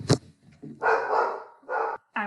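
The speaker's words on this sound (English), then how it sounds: "that was my dog" A dog barks in a few loud, close bursts: one sharp yelp, then two longer rough barks separated by short pauses, heard alone in a quiet indoor room.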